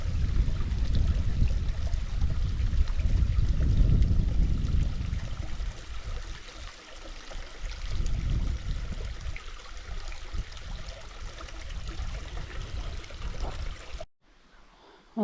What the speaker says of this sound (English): It's quite pretty the way it's trickling down.